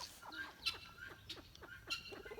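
A hen clucks in a few short, soft bursts spaced irregularly, faint and close with quiet room noise between them.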